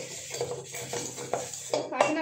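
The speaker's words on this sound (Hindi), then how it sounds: "आज ना मैं साबुन से बर्तन धुल रही हूँ।" Dishes being scrubbed and washed by hand with Nirma detergent soap bar, with a run of close clinks and clatters of utensils and cutlery knocking together, growing sharper toward the end.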